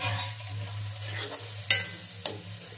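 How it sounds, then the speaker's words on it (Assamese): Potatoes frying in a pan give a steady, low sizzle, broken by a few sharp scrapes and clinks of a utensil near the end. There is no talking. "আলুখিনি 2 মিনিট মান ভাজি লম"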